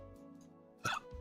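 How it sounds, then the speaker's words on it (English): One short, sharp hiccup stands out abruptly near the end, loud against a quiet room hum, followed by a soft faint catch. "That was a hiccup."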